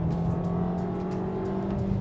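A VW Tiguan engine held at high revs in Sport mode, a steady droning hum heard from inside the car with no talk over it.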